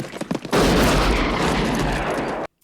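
A burst of gunfire from the 1976 film The Outlaw Josey Wales, a few sharp cracks followed by a loud, sustained roar of shooting and rumble that cuts off abruptly.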